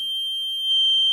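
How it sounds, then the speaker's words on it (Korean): A buzzer wired through a variable resistor on an electronics demo board sounds one steady, piercing high-pitched tone that grows slightly louder partway through as the resistance is turned. "자, 부저일 때 지금 소리가 찌지직거리죠?"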